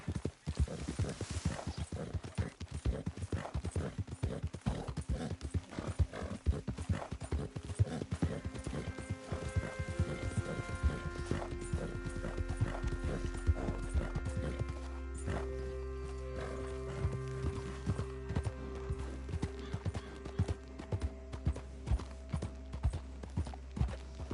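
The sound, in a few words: horse hooves trotting in the video game Red Dead Redemption 2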